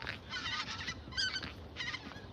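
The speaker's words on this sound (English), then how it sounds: "Look at the geese. They're Canadian geese." Canada geese flying overhead honk repeatedly in overlapping bursts, loud and clear outdoors against a low background of wind.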